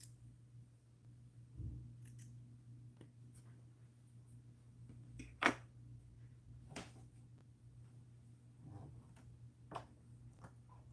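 Scissors trim sewing threads in a sewing room. A few sparse, crisp snips and clicks stand out against a quiet background hum, with no talking.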